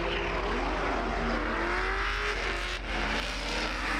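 A Porsche drift car engine runs at the top of a hill on a race track, its note droning loud and steady with a slowly sagging pitch as it loses power, no voices.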